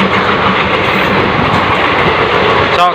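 Loud, close rumble and rhythmic clatter of a train running along tracks right beside a road near Guwahati, steady for the full stretch with no talking over it.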